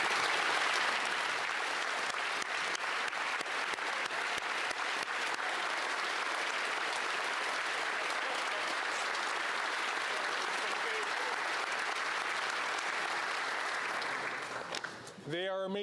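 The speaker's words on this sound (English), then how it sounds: "Let us all give them a huge round of applause." Members of the Canadian House of Commons applauding in the chamber during a sitting, a long, even, fairly distant roar of many hands clapping that holds steady and then tapers off, with a voice briefly heard at the end.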